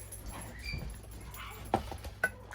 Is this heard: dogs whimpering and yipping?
yes